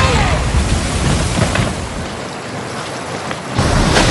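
Rushing river water churning through rapids in the upper reaches, a loud, continuous broadband roar that dips a little in the middle before surging again.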